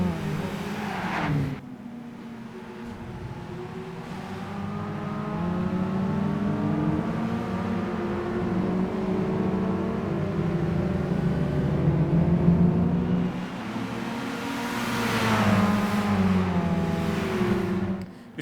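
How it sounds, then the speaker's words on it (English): A Honda Civic with a VTEC engine racing in Gran Turismo 5, revving hard and climbing through the gears with a whining tone, shifting near the start and surging again toward the end, alone with no talk. "Especially that Civic, for example, that really sounds like a little Honda VTEC Civic."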